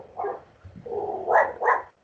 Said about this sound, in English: I'm not sure where that dog is yelling barking from